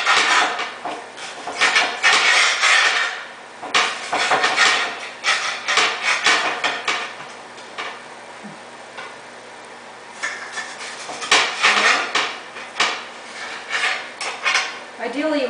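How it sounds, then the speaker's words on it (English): A knife chopping a red bell pepper into little pieces on a cutting board, clusters of sharp close taps and knocks in an irregular rhythm with short pauses, and a voice talking faintly in between. "Ideally, you want to use a knife that's sharper than this. Okay, so you just want to cut it up in little pieces."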